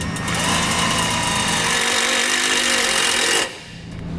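A power tool drives a large self-tapping screw into the underside frame of a 2017 Ford Escape, a loud continuous high-pitched whine and grind that stops abruptly after about three and a half seconds.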